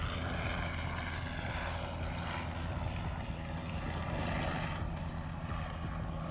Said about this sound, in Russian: сейчас самолет пролетит. Здесь рядом частный такой любительский аэродром, кукурузники летают